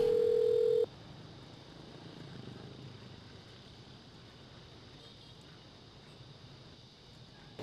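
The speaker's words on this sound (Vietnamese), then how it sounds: "Sao Linh không nghe điện thoại?" An unanswered telephone call gives one short, steady ringing tone at the start, then fades into a long stretch of faint, hissing line noise.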